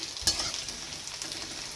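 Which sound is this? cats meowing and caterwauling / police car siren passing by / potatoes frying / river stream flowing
potatoes frying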